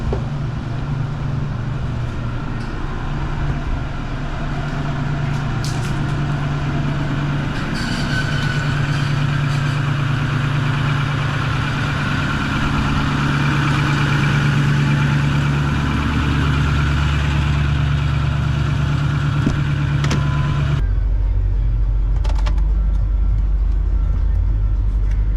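A pickup truck with a 6.4 Powerstroke diesel engine idles and rumbles steadily at close range, then deepens into a heavier low roar as it drives into a garage, with no talking over it.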